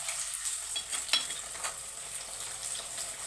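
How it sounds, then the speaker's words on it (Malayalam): Chopped shallots sizzle and fry in hot oil in a pan for fish curry, a steady close crackling hiss with a few stirring scrapes and no talking. "അതിനകത്തോട്ട് ഞാനിനി ഈ കൊച്ചുള്ളി അരിഞ്ഞതിടുവാണ്"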